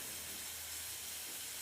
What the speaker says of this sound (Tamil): இப்போ 4 விசில் ஆகிடுச்சுங்க.